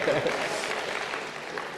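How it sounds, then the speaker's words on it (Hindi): A speaker at a de-addiction lecture claps his hands, a dense steady patter of applause-like claps lasting under two seconds, fairly loud and close. "मैं ताली बजाता हूँ"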